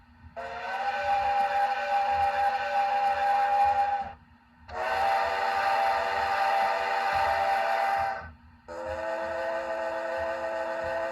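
An HO scale Athearn Genesis Union Pacific FEF-3 #844 model steam locomotive sounds a Hancock three-chime whistle: three long, steady blasts with short gaps between, loud and clear with no talking.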